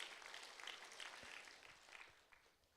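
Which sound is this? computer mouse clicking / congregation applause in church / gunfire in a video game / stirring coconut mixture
congregation applause in church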